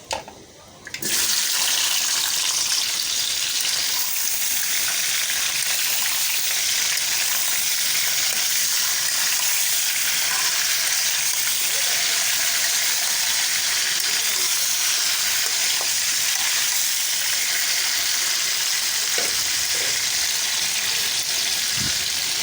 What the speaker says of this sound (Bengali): পাঁচফোড়নটাকে আমি একটু ভালো করে ভেজে নেব